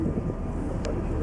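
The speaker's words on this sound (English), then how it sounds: "that's us leaving port now" Wind buffets the microphone over a low engine rumble and water noise as a large ferry leaves port in Sicily, with a faint voice briefly underneath.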